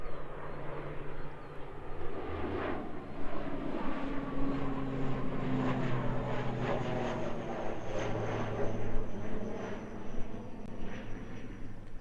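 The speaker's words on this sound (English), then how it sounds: "that ATR staying nice and low for us" ATR turboprop airliner passing low overhead at Christchurch airport, a loud continuous propeller drone with steady engine tones that holds throughout, roaring in the open air with no talk.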